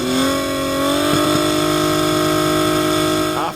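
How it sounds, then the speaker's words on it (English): An off-road racing buggy engine revs loudly at the Griffith 400 dirt track, its pitch rising and holding steady as it accelerates, with a brief shift midway. "the revs rise and the dirt flies as we go racing"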